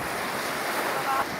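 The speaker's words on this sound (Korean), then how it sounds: "파도 겁나 큰데." Big ocean surf washes and roars close by, a broad steady rush mixed with wind buffeting the microphone, swelling slightly near the end.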